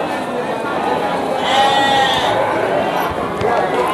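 Garut sheep bleat repeatedly amid the crowd noise of a livestock market, with someone talking over them and steady background chatter throughout.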